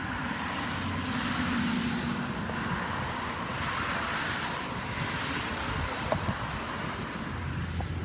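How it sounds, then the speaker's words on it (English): An airplane passing high overhead on a clear afternoon, a faint broad drone that holds steady under heavy wind noise on the microphone. "And then there's an airplane up there."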